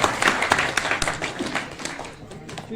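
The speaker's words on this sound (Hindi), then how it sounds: "तालियां बजाएं।" A crowd at a literary memorial gathering claps, a scattered but lively patter of many hands up close that fades slightly toward the end, with murmured voices underneath.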